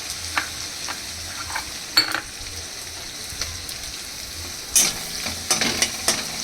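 Onion softening and frying in a pan with garlic added, giving a low steady sizzle broken by several sharper stirring scrapes and clatters.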